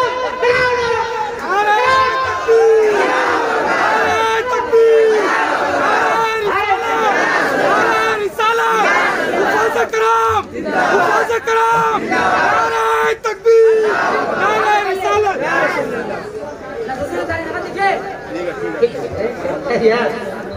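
A crowd at an outdoor religious gathering shouts back a Takbir slogan in loud, chanted bursts of many voices, with amplified speech and chatter mixed in.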